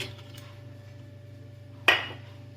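A pot of mung and masoor lentils being set on to boil gives one sharp metallic clank of cookware against the stove, heard close over a steady low kitchen hum.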